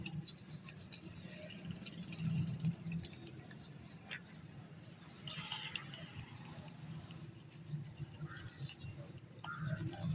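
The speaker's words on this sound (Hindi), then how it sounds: "अब इसको हम अच्छी तरह ब्रश से साफ कर देंगे।" Bristle brush scrubbing a Xerox 5755/5775 document feeder part cleaned with detergent, a steady scratchy rasp running throughout with continuous rubbing strokes at moderate level, with faint background noise.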